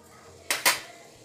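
A metal kadai (wok) is set down on a home kitchen stove while making sweet corn chaat, giving two quick, close metallic clanks about a beat apart against a quiet room.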